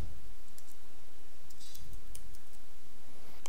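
A computer mouse clicks a few times in quick succession, including a double click, while navigating UiPath browser activities; the clicks are soft, sharp and close, over faint room hiss with no talk.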